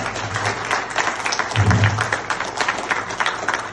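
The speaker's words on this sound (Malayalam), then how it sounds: "അവസാനം നല്ലൊരു കയ്യടി കൊടുക്കാമോ" An audience breaks into sustained applause at the end of a motivational dream session talk, many hands clapping in a dense, lively patter that swells briefly midway.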